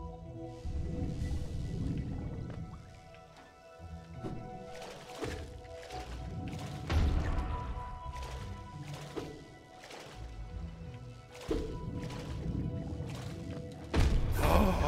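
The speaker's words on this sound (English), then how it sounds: "Oh, there was an explosion." A series of heavy thuds and booming impacts from an explosion in the Hollow Knight video game, several bursts spread across the passage over a low, murky game ambience.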